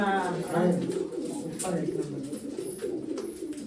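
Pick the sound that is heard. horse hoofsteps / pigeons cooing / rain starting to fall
pigeons cooing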